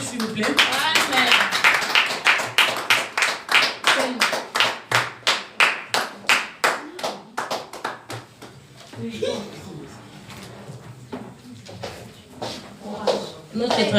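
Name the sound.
audience clapping in church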